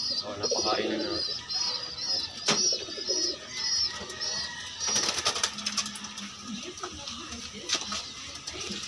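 Pigeons in a loft coo softly, with a few chirps, scattered wing flutters and clatters, under a quiet room background, with no talking.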